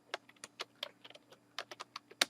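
Quick clatter of keys as text is typed on a computer keyboard, about a dozen light irregular taps in a short burst, close and fairly quiet with no voices.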